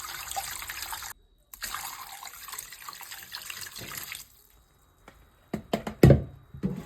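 Water pours and splashes from a tap into a container of pickled bamboo shoots, coming in uneven bursts with short quiet gaps and a few louder sloshes near the end.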